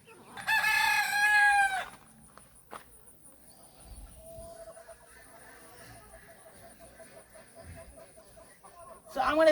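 A rooster crows loudly once at the start in a chicken run, followed by quieter hen clucks and soft farmyard chatter, with another crow beginning at the close.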